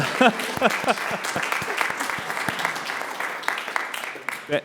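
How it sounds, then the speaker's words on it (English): A round of applause at a transit board of directors meeting for a board member's birthday: steady clapping from a modest group, with voices cheering and talking through it, dipping briefly before a last burst. "So let's give Ben a round of applause"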